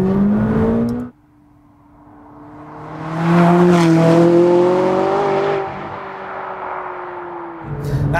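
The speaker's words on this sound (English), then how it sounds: "Very easy to pick up a lot of speed in this car very quickly." A McLaren 570GT accelerates hard, its engine note rising in pitch through the gears with a brief pause at a shift, loud and close from inside the car, with no talk over it.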